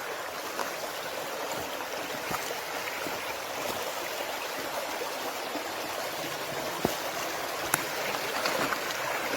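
Small outdoor stream flowing steadily nearby, a continuous broadband rushing and babbling of water with occasional faint clicks and no voices.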